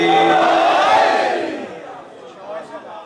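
A crowd at a religious gathering commemorating Karbala chants slogans in unison, loud and close for about a second and a half, then fades to a quieter murmur with a few scattered voices.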